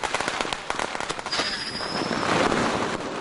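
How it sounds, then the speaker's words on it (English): Fireworks and firecrackers bursting at midnight to welcome the Chinese Lunar New Year, a dense, continuous crackle of loud pops and bangs with a thin whistle rising briefly in the middle. "the noise of the fireworks scares away the evil spirit"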